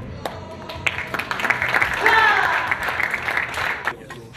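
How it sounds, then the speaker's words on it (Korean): An audience at a Korean community cultural event with police bursts into applause after a taekwondo board break, steady clapping that swells in the middle, with voices talking over it. "송판이 시원하게 격파되자 큰 박수가 절로 쏟아집니다"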